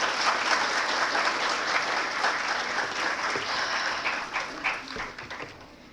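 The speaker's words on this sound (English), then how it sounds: "we should have a round of applause for all the esteemed guests and the dignitaries" Workshop audience giving a round of applause for guests and dignitaries, dense steady clapping filling the space at moderate loudness, thinning toward the end.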